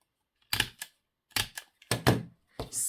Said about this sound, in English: let's get my Tim Holtz stapler out